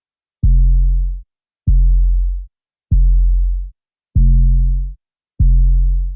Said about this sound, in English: The first one is again a phase modulated sine wave